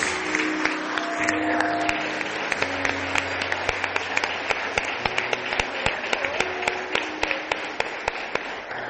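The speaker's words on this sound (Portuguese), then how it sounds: "Aplauda o Senhor Jesus." Congregation applauding the Lord Jesus during a Portuguese-language church sermon, a dense, steady roar of many hands clapping at once with sharper individual claps standing out, sustained throughout under a faint sustained tone.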